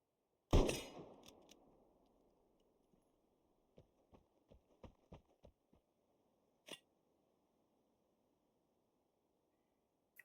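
A new crossbow weapon fires in a video game, one sharp loud release with a short decaying tail, followed by a quick series of lighter clicks and ticks and a final crisp snap.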